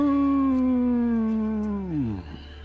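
A bestial, hellhound-like howl sound effect plays as one loud, sustained, close wail that slowly falls in pitch and then drops off sharply at the end.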